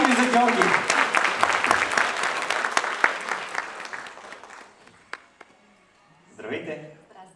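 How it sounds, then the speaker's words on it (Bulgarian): A studio audience at a Bulgarian year-end awards quiz show bursts into loud, dense applause that thins and fades after about five seconds, leaving scattered claps, followed by a brief murmur of voices. "Верен отговор, аплодисменти."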